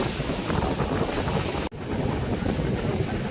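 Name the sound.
rushing water at river barrage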